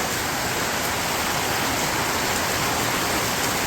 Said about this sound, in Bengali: আর এই মুহূর্তে বৃষ্টি নামা শুরু করে দিছে